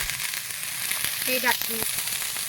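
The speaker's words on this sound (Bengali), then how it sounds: "এই ডাঁটাগুলো দিয়ে আমরা এবার ভালো করে ভেজে নেব" Drumstick stalks fry in a pan with potatoes, green chilli and raw tomato for a Bengali curry, giving a continuous close sizzle and crackle. A short voice-like murmur rises briefly midway.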